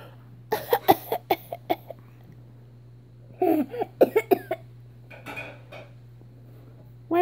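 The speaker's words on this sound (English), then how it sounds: "Why won't you show the camera your fake coughing?" A child gives a series of short, exaggerated coughs in two clusters with a pause between, close and fairly loud against a faint steady hum.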